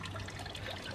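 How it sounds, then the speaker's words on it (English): A steady garden water feature trickling continuously, a close, even splashing stream with no pauses and no voices. "It's a water feature."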